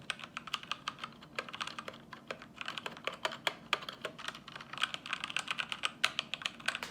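Fast, steady typing on a Royal Kludge RK71 mechanical keyboard with brown switches, crisp clacky keystrokes in quick bursts, close and clear with no talking.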